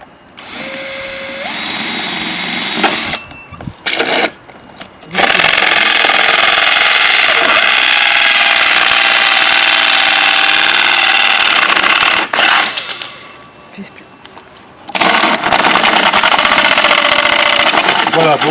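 Power drill with a hole saw cutting a half hole at an angle, a loud sustained whine broken by short pauses and restarts, with speech heard in places.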